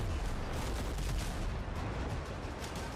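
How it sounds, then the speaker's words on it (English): Cannon fire from a frigate's front gun in the naval video game Windrose, a dense, continuous roar of booming blasts and rumbling impacts filling the whole stretch, loud and close with no talking. "Pretty much just have to hit him like with a front cannon."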